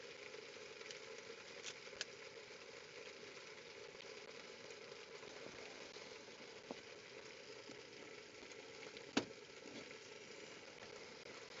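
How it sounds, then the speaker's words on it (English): Food sizzling steadily in a pan at an off-grid cooking setup with steak, potatoes, rice, mushrooms and garlic, a faint continuous hiss broken by a few small pops and one sharp crackle, with no talking. "this thing is sizzling like it's all crazy"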